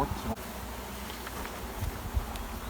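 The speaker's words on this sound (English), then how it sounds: "Wow, there's a lot of bees." Honey bees buzz steadily around a beehive, a dense close hum of many insects with a few brief louder passes near the end.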